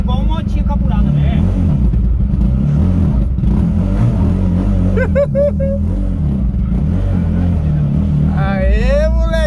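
A Ford Fiesta fitted with a Honda Twister motorcycle engine revs and accelerates with a steady, loud buzzing drone, while voices talk and shout over it throughout.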